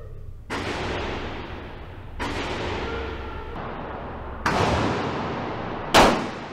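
Gunshots from a rifle: four sharp, loud reports spaced a second or two apart, each trailing into a long rolling echo, the last the harshest, close and with no voices.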